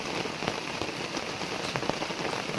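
Heavy rain falls steadily on a garden planted with cocoa, a broad close hiss dotted with sharper drip impacts, with no talking.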